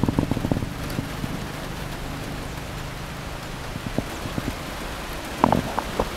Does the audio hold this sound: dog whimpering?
no